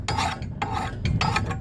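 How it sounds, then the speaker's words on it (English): A large bastard file rasps across mushroomed burrs on an old steel axe head in three firm strokes, each a gritty scrape with brief pauses between, close up and without speech. "now with like a big old bastard file, I'll be filing these burrs or mushroom"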